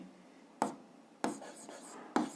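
Writing out an algebra expression during a seventh-grade maths exercise: three short, scratchy strokes spaced roughly half a second apart, faint and close over a quiet room.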